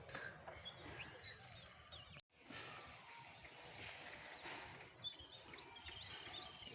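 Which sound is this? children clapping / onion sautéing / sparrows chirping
sparrows chirping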